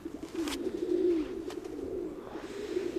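Domestic pigeons of the Mykolaiv breed coo softly in a low, steady murmur close by, with brief rustles of movement and no voices.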